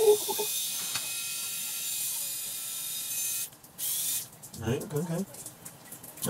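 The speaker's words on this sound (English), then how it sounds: "This is the AW Idols Well Up 360 Hyperflex Technology Electric Head Shaver." An AW Idols 360 Hyperflex electric head shaver buzzes steadily for a few seconds, then cuts out and restarts in shorter bursts while a person speaks briefly near the end.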